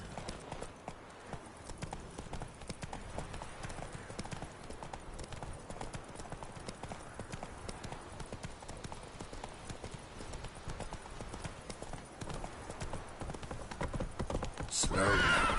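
Roach the horse from The Witcher 3 trots with a steady, fairly close clip-clop of hooves that keeps going throughout, and a whinny is heard near the end.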